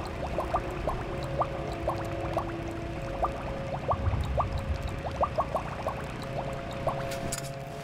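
Water trickles and gurgles into a bottle at a source in the Mad Max game, a steady pouring with bubbly plinks over a low background hum.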